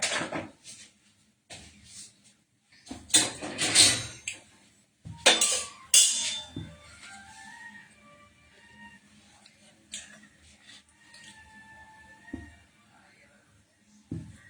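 A metal kadai is handled on a kitchen stove, giving scattered clanks and scrapes of cookware in uneven bursts, loudest around the middle, between quieter gaps.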